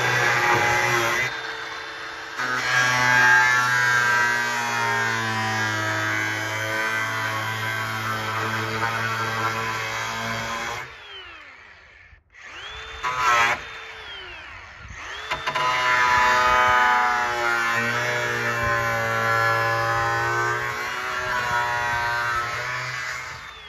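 A larger angle grinder cuts holes in the quarter panel of a 1964 Impala convertible, a loud whining drone that rises and falls in pitch as it bites the metal, with a short spin-down and restart midway.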